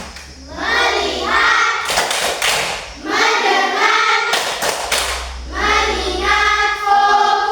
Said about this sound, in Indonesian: Sebelum kita lanjut, tepuk fokus dulu boleh?